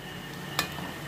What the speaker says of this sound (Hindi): इसको लगातार चलाते हुए हम फ्राई करेंगे।